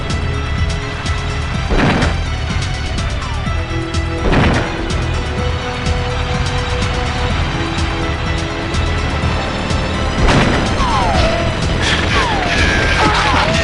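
Tank cannon blasts in the GoldenEye 007 video game's runway level destroying a machine gun emplacement, with a few sharp booming impacts cutting through a steady rumbling game soundscape and scattered mechanical noises.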